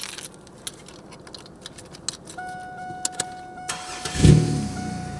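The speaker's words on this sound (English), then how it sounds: "So I'm gonna start the engine." A car's keys jangle briefly, then its engine cranks and catches for a battery and charging test, a short loud burst of cranking that settles into a steady idle, with no one talking.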